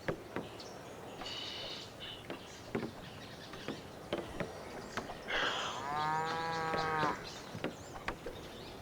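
Cattle mooing in the video game Civilization V: a single drawn-out moo of about two seconds, set among scattered clicks and short ambient bird and insect chirps at modest volume.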